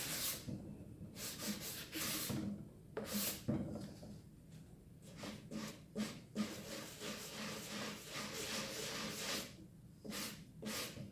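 Sandpaper rubbing over a matte black painted wooden owl, repeated back-and-forth scratchy strokes in irregular bursts with short pauses, close up and fairly quiet, with no talk.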